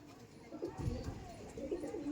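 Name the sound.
pigeons cooing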